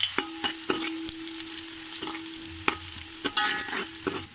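Onions dropped into hot oil in a pot for chicken biryani, with a steady sizzle and several sharp clatters and scrapes of stirring at irregular intervals, close and fairly loud, with no talking.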